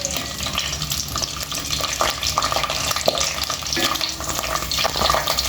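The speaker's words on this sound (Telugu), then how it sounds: "ఇట్లా ఫ్రై చేసుకోవాలి మంచిగా వంకాయలు కొంచెం మగ్గిపోయే వరకు ఇట్లా మనం ఫ్రై చేసుకోవాలి" Stuffed eggplants for gutti vankaya curry fry in hot oil with a steady, dense sizzle and crackle, and an occasional soft knock of a spoon or pan.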